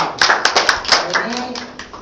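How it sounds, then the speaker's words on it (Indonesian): A group claps in a meeting or classroom, a brisk run of distinct hand claps at close range with a voice underneath. "tepuk tangan kelompok 3"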